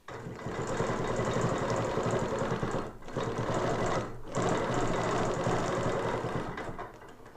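A sewing machine stitches a seam in steady, loud bursts of rapid whirring, stopping briefly twice before running on again, with no talking.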